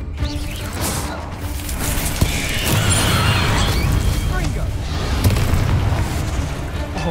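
A Confringo blasting spell detonates in the Hogwarts Legacy video game, a loud booming explosion with crashing debris that swells around the two-second mark and rumbles on steadily, with a game voice underneath.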